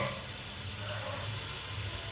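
Water is poured into a pot of dal curry being cooked, a steady close splashing rush of liquid that holds for a couple of seconds with no talk.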